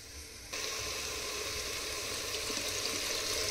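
Rice and khichdi mixture roasts in a pan, a soft sizzle that begins faintly and then jumps to a steady, even crackle that continues to the end.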